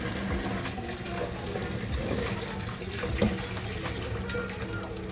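Hot water gushing and splashing steadily as it is emptied out while raw goat meat is cleaned in a kitchen, with faint background sound.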